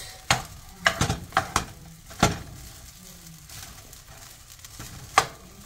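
Shrimp fried rice being stir-fried in a pan, a soft sizzle beneath sharp scrapes and clanks of the spatula against the pan, irregular and close.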